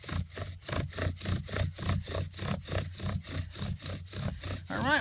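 Rhythmic rubbing strokes of a bow drill spindle grinding into a wooden hearth board in a wet outdoor setting, roughly a dozen steady back-and-forth passes close up with no talking.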